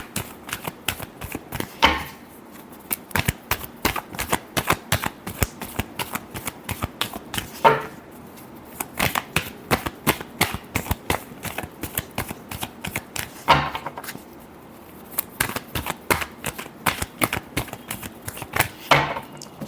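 Tarot cards are shuffled by hand during a weekly horoscope reading: rapid, close, crisp riffling bursts repeat in long runs, separated by brief pauses, with no voice over them.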